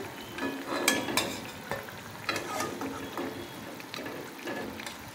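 Gaja sweets frying in hot oil, a steady close crackling sizzle with scattered sharper pops and the odd stir, no voices.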